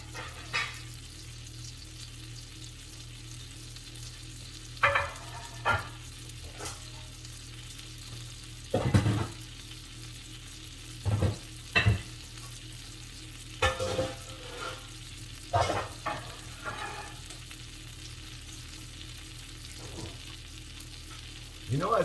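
Brioche French toast fries in butter on a griddle with a soft, continuous sizzle. Periodic clacks and scrapes of a utensil occasionally cut through.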